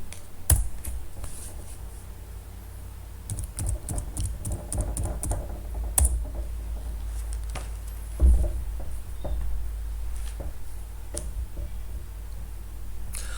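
Computer keys are typed in quick, irregular bursts of soft clicks close by, with a few louder taps and pauses between runs and a low hum underneath.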